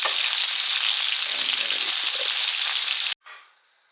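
Shell-on prawns fry in a pan with a loud, steady sizzle for about three seconds, then cut off sharply into a brief fading hiss.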